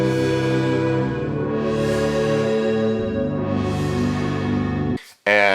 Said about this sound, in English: let's add some echo and some depth.